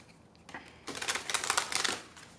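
Oracle cards for a tarot reading are handled, then shuffled in a dense, crackling riffle of papery flicks that swells for about a second and a half, close and fairly loud with no talking.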